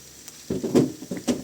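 Chopped onion and garlic hit a hot pan with a short, close burst of sizzling and stirring that swells and fades twice within a second or so.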